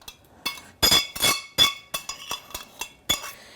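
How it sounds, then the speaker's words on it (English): Metal pan scraped and knocked with a utensil while cooking a kilo of mince with macaroni for cottage pie, a series of sharp, bright clinks and scrapes in irregular rhythm, close and fairly quiet. "Hope I'm not making too much of noise with scraping of the pan"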